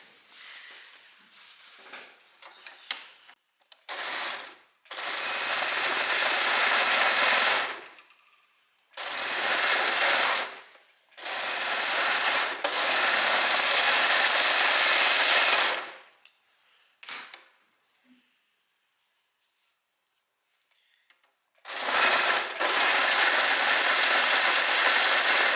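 A sewing machine stitches the cup seam of a little black dress with thin straps and an open back, running in several loud bursts of a few seconds each, separated by short quiet pauses.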